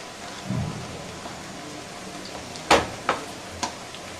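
Green beans fry in groundnut or refined oil over medium heat for vegetable cutlets, giving a steady crackling sizzle with a few sharp, close clicks and pops near the end.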